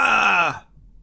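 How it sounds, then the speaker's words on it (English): A single drawn-out, strained vocal cry falls in pitch and cuts off abruptly, like a Battlefield 5 soldier's dying yell. "okay, Jeff, could you do a death sound?"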